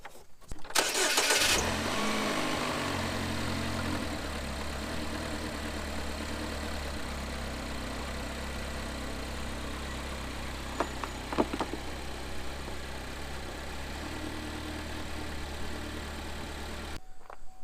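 A Chevrolet Equinox engine cranks and starts after an oil change, then settles into a steady, close idle hum, with a couple of faint clicks partway through before the sound cuts off.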